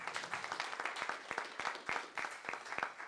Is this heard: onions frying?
no